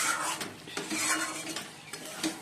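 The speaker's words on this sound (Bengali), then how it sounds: "চিকেনটা কষিয়ে নিচ্ছি এবার।" Chicken is stir-fried in a pan, with a close, busy mix of a metal spoon scraping and clinking against the pan over a low sizzle, and no talk.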